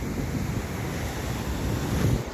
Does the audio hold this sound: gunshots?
no